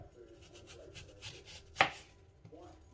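A kitchen knife cuts bad spots out of freshly picked apples, with a single sharp chopping knock against the board amid quieter scraping and handling sounds, close and alone without voices.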